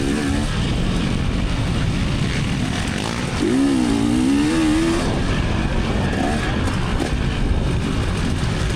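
Dirt bike on a wooded trail during a Mideast Chestnut Corner C class race, engine roaring loud and constant with a rising and falling rev in the middle, rough and close throughout.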